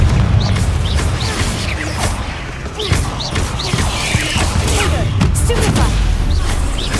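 Confringo fire spell blasting in the game Hogwarts Legacy during a fight near a venomous tentacula, loud repeated explosive bursts over busy combat noise, with a voice calling out between impacts.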